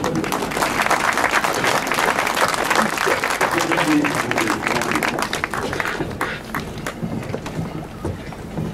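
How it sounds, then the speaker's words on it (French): Outdoor crowd gathered for the blessing of a racing sailboat before the Transat Jacques Vabre applauds the clergy, a broad sustained clapping with wind noise and voices underneath that thins out toward the end. "je vous demande de les applaudir"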